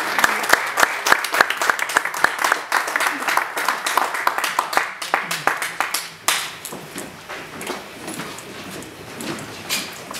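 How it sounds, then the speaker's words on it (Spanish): Audience applause for a teacher at an Indigenous Muysca community gathering, a dense burst of clapping that starts sharp with distinct claps, then thins into scattered, fading handclaps with some murmuring. "aplauso para el maestro"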